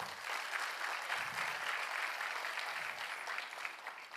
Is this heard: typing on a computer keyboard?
no